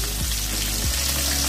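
Onions and green chillies sauté in a pan for a bitter gourd curry, giving a steady, close sizzle and frying crackle that runs unbroken throughout, with a couple of low thumps beneath.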